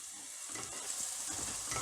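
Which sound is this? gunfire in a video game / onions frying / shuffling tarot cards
onions frying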